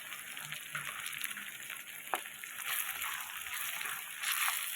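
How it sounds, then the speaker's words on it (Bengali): Tomatoes frying in a pan, a soft continuous sizzle and hiss with faint occasional stirring, fairly quiet and close, no voices. "এটা বেশ লালচে করে টমেটো সেদ্ধ না হওয়া পর্যন্ত ভেজে নিতে হবে"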